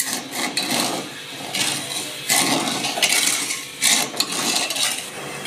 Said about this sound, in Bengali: দিচ্ছি 1 বাটি চিনি, দিচ্ছি 1 বাটি জল।